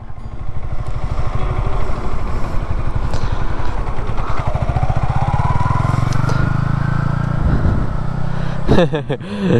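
A Yamaha R15 or MT-15 motorcycle from the 2021 range rides along with its engine running loud and close in a steady drone. The pitch rises as it picks up speed, then the sound eases off near the end.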